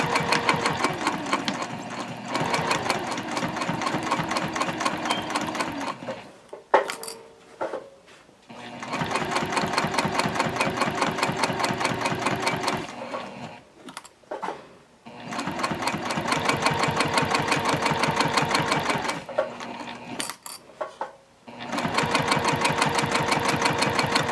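A sewing machine runs in long bursts while stitching a seam on a zip-top tote bag, pausing briefly between runs, with a steady close, mechanical rattle.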